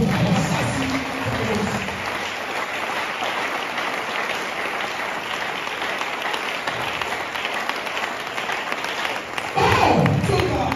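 A church congregation claps and applauds steadily throughout a sermon, a dense continuous wash of hands, with voices mixed in and a louder swell at the end.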